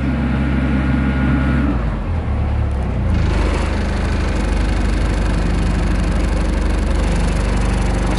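The inboard engine of an Island Packet 38 full-keel sailboat runs steadily while maneuvering, giving a loud, close, continuous throbbing drone with a slight shift in pitch partway through.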